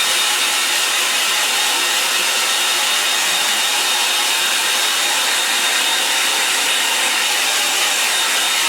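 A hair dryer roars steadily and loudly at close range for the whole stretch, blowing to dry a landscape painting, a constant airy whine with no pauses and no talking.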